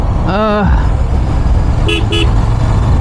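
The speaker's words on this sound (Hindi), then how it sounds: "हॉर्न अच्छा है।" A Royal Enfield Continental GT 650 motorcycle horn sounds once in a short blast, then gives two quick beeps, loud over steady engine and road noise.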